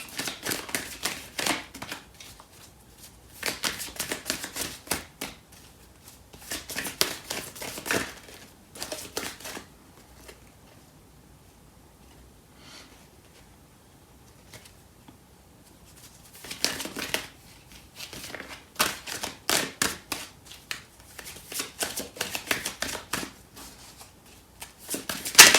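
Bursts of rapid riffling and slapping as a Starseed Oracle deck of cards is shuffled by hand, several flurries separated by quiet pauses, close and crisp with no talking.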